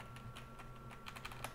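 Computer keyboard keys pressed at an irregular pace, a scattered series of light, quiet clicks over a low hum, with no talk.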